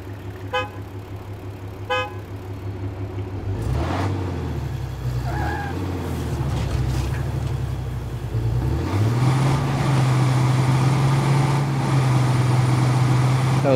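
A diesel truck engine idles with a low rumble, then revs up into a louder, steady drone; two short horn toots sound near the start.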